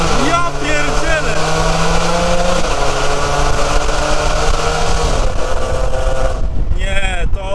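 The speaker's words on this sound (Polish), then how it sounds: "to jest wydech, który trochę za mocno pierdzi dla mnie" A modified Jaguar F-Type S with 482 horsepower and an eight-speed gearbox revs hard in a tunnel, its loud exhaust roaring continuously with rising and falling engine pitch before tailing off, while people talk over it.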